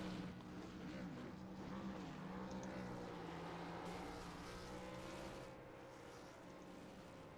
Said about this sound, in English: There goes Blake Giglio doing his burnouts across the start finish line in style.